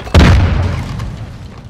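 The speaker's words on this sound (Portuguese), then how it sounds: "Usando bomba anti-bunker." A bunker buster bomb goes off in Call of Duty: Modern Warfare II, one sudden loud close boom with a deep rumbling tail that slowly fades.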